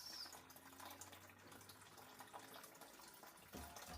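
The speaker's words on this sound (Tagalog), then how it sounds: "Agas ang tubig guys." Water runs steadily from a tap as a faint, continuous splashing stream, with no talk over it.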